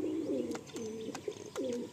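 Pigeons coo softly in a steady rhythm of low, rolling calls, close by, with no voices present.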